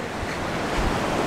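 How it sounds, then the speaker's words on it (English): Ocean waves breaking on a beach in Abidjan, Ivory Coast, a loud, continuous roar of surf mixed with strong wind buffeting the microphone, with no talk. "Oh my gosh, these waves, though."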